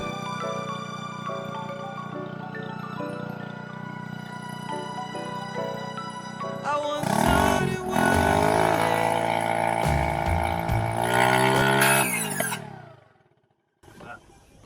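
Outboard motor on a sailboat being started: after a steady hum, the engine catches and runs loudly and roughly with revving pitch changes for several seconds, then cuts out abruptly.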